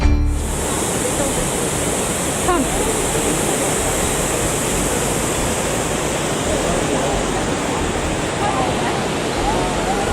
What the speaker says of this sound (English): a spectacular waterfall, the tallest continuous falls of water in Wales